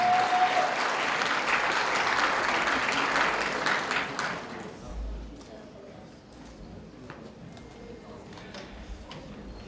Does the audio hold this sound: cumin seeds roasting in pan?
no